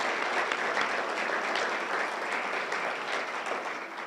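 Steady applause from an audience at a university basketball press conference honoring a coaching search committee, dense even clapping that continues without a break and stays loud throughout, with no speech over it.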